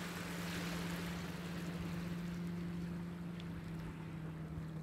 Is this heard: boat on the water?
yes